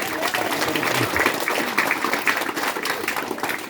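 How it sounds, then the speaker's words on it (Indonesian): Applause from a congregation during an Indonesian Independence Day sermon, a continuous rustling burst of many hands clapping at moderate volume, with a voice faintly audible beneath. "Tepuk tangan untuk Bapak dan Ramil."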